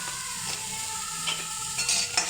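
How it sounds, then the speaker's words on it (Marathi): Onion frying in a kadhai for a farsan curry, a constant close sizzle with scraping stirs and occasional utensil knocks, no voices. "कढईमध्ये कांदा घालून घेऊया"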